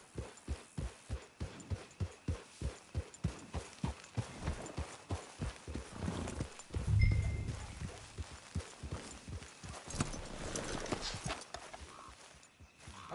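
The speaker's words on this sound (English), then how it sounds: "Get your horse." Hooves of a horse in a PS4 game clip-clop in an even, regular rhythm, close and clear, briefly blurring mid-way before the steps continue and fade toward the end.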